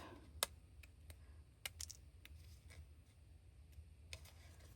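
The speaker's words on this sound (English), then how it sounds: "You just take your scissors and" Scissors snip into paper while a gift box is cut out, a few faint, crisp clicks and short cuts scattered irregularly over a quiet low hum, close to the listener.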